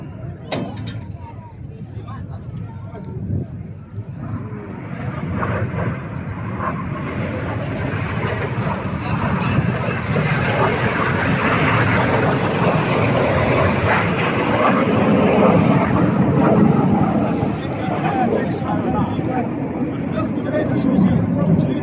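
Red Arrows jets roaring through a flying display manoeuvre at an air show, a loud broad engine rush that builds and sustains overhead for about twenty seconds under a commentator's voice.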